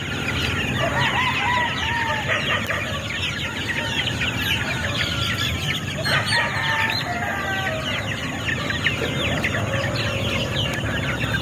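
Month-old gamefowl chicks cluck and peep steadily as they play, with chickens crowing and clucking nearby in a busy, continuous farmyard chorus and no talking.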